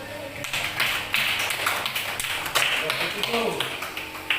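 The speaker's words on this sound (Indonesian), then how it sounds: "Tepuk tangan." Students in a classroom clap their hands together in a brief burst of applause, with voices talking over the scattered claps.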